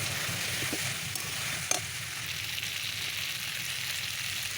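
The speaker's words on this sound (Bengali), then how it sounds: "বেশ সুন্দর করে অনেকক্ষণ কিন্তু আমি কষে নিয়েছি একেবারেই তেল ছেড়ে এসছে" Fresh vegetables fry with prawns in oil, making a continuous soft sizzle with an occasional clunk of a spoon against the pan.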